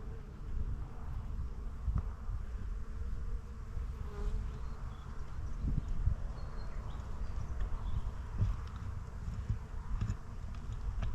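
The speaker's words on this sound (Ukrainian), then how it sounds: "Бджола гуде." A steady low buzzing of bees drones continuously outdoors over a small field, a dense hum with occasional closer passes, no voices.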